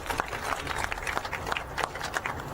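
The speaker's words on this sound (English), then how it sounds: "I want to give him a round of applause" Applause from an audience for Joe Crowley at a LaGuardia construction announcement, a steady wash of clapping at moderate level running throughout with some crowd noise mixed in.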